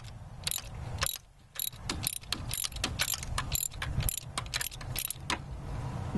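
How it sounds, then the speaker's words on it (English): A socket ratchet turning a spark plug on a 1998 Ford Explorer, with rapid, close clicking in steady repeated strokes that continue for several seconds over a low background rumble. "Just gonna turn it down."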